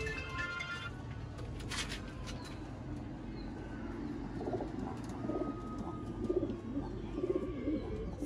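Sialkoti rooftop pigeons coo steadily in a low, repeated murmur, with soft chirps and a faint background rumble, the cooing a little stronger toward the end.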